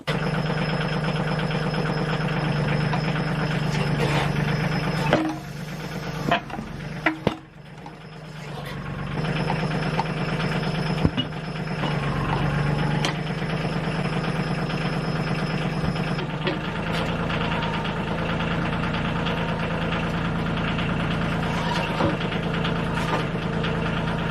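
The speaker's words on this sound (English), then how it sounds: "I'm going to use my backhoe to break the bead" A backhoe engine runs steadily at a rough, knocking idle while it breaks the bead of an ATV tire, loud and continuous, with a few sharp clanks and a brief dip in level.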